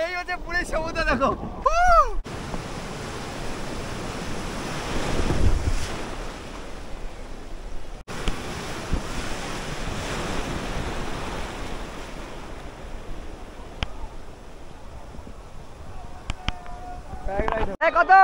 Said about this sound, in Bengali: এই হচ্ছে পুরীর সমুদ্র দেখো।